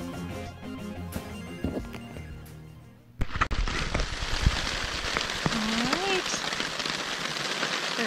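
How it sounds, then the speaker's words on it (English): Heavy rainstorm drumming steadily on a camp tarp beside a sandy canoe-trip beach, a loud, dense hiss that bursts in partway through and continues without letup after a few seconds of other, quieter sound. "Big rainstorm. Tarp's doing great."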